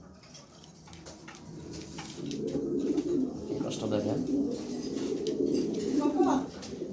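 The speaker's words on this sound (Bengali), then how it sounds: "এই যে দেখেন খুব সুন্দর একটা নর কবুতর" A male pigeon coos in a low, throaty, rolling warble that swells after the first couple of seconds and continues for several seconds, close by, while someone speaks briefly over it.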